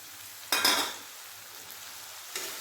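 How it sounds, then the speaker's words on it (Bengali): A soaked spice paste with tomato hits a hot pan in two short bursts of sizzle and stirring, the first louder and longer, with quiet pauses between. "মশলাটা ভালোভাবে কষিয়ে নেব"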